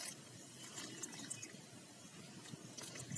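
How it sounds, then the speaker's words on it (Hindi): Water poured from above into the soil of a potted money plant, a faint continuous trickle with soft splashes and drips, steady and close. "तो अभी हम डाल देते हैं पानी"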